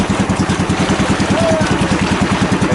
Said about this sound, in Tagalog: hindi na ayos yung makina